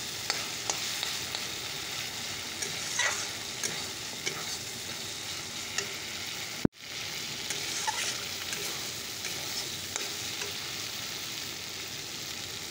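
Spice masala fries down in a pan for a fish curry, a constant close sizzle with light stirring taps and a brief cut-out midway, with no one talking.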